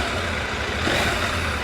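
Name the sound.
CFmoto 800MT motorcycle engine revving with throttle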